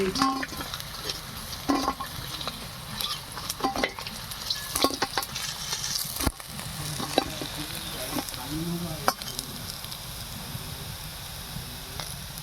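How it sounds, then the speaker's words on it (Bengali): Snakehead (shol) fish pieces frying in hot oil until reddish-brown, a steady sizzle with occasional stirring scrapes and clinks, close and moderately loud throughout. "এইভাবে লাল লাল করে মাছগুলো ভেজে নিতে হবে।"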